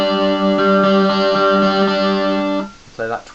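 Electric guitar with light distortion through a Yamaha MG10 amp plays a sustained chord phrase from a song for about two and a half seconds, then briefly drops away before a short picked return.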